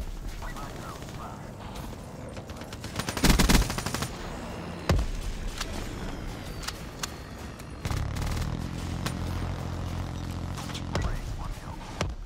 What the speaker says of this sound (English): The weirdest gunfight ever.